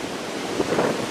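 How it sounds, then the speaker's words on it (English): A steady roar of autumn wind rushes and buffets the microphone outdoors among trees, with a soft gust swelling briefly near the end; no voices. "You can hear that wind howling."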